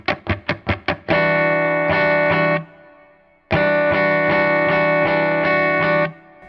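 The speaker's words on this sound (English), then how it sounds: "This section starts off with a few palm muted strokes just for rhythmic accentuation" Electric guitar with effects and distortion plays five short, choppy palm-muted strokes in quick succession, then rings out in sustained loud chords separated by a brief gap, with no voice over it.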